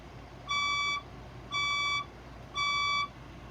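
Fire alarm sounding three evenly spaced half-second electronic beeps, bright and piercing, about a second apart over faint background hiss, with no voices.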